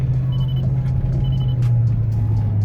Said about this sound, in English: Car's making some weird sounds.